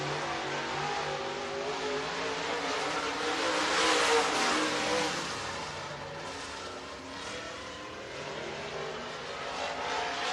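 Race cars accelerating on the Ice Bowl racetrack, a loud continuous engine roar that swells and fades as cars pass, with a broad hissing wash of engine noise.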